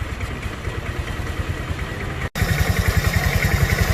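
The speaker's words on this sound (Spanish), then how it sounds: "Vamos a esperar que caliente el motor" A motorcycle engine fitted with a vacuum carburettor idles steadily while warming up, a close, even low thrum with regular pulsing beats, briefly cutting out for an instant before resuming.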